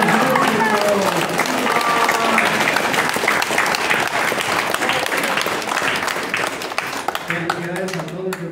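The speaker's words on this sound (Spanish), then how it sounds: "vamos a saludar y a dar un aplauso fuerte a todos los músicos dedicados a este servicio" Loud, sustained applause from a crowd at a church mass honoring Santa Cecilia in Tierra Blanca Tamazulapam Mixe, dense clapping filling the space with a voice speaking over it and the clapping thinning toward the end.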